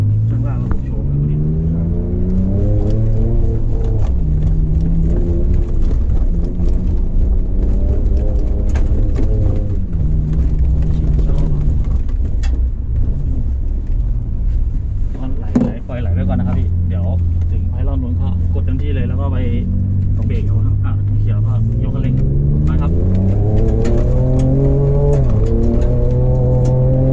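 A Ford Ranger Raptor pickup is driven in off-road mode, its engine droning and revving in repeated rising and falling sweeps over rough ground, loud and close throughout, with clattering bumps mixed in.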